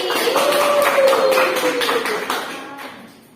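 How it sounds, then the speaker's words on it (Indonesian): Classroom students clap together for a classmate during a microteaching lesson, a dense burst of many hands that holds steady for a few seconds and then tapers off, with a voice briefly audible over the clapping. "Tepuk tangan untuk Desi."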